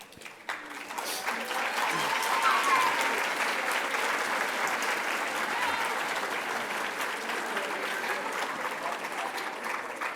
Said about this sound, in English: Give them one more applause, please.